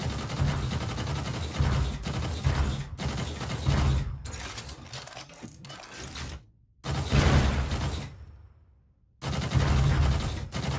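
Volatile red asteroids blow apart in the PS4 VR space shooter Gunjack: loud, dense blasts and rattling gunfire come in long bursts separated by brief silent gaps.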